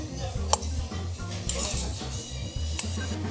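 Metal cutlery clinks and scrapes against a bowl while bibimbap with gochujang chili paste is stirred together, a steady run of light taps and scraping close by over a low background hum.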